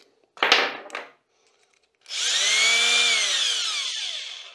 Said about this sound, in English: I just have to pre-drill every hole, that's all.